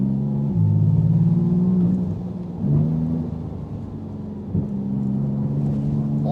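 A Porsche GT2 RS exhaust pops and bangs on the overrun in the rain, heard from inside as a loud low rumble, with sharp bursts at intervals as the engine note drops and recovers.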